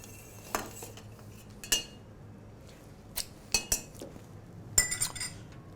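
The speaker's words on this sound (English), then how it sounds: "I'm just going to stir that over ice to get it nice and cold." A spoon clinks against ice in a metal shaker tin while a Lamington cocktail is stirred, giving sparse, bright clinks and rattles that arrive in small clusters, close and fairly quiet with no talking.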